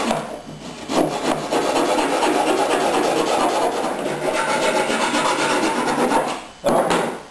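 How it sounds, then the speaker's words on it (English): A rasp is drawn steadily across fiberglass tape on a seam, using its fine side, giving a continuous close rough scraping that runs almost unbroken for about seven seconds with one short pause near the end. "take the fine side of the rasping."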